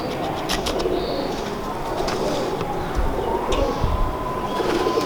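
Pigeons coo softly against a busy outdoor background with low rumbling noise, likely passing traffic or a train, while someone speaks nearby.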